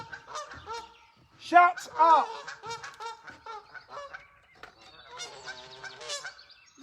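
Geese honk loudly and close at hand, with repeated harsh calls in overlapping bursts, and a voice briefly shouts over them.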